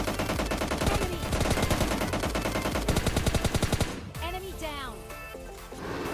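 Rapid gunfire in PUBG Mobile Lite during a duo versus duo match, dense bursts of automatic shots in quick succession followed by sparser single shots and game effects, with a voice talking over part of it.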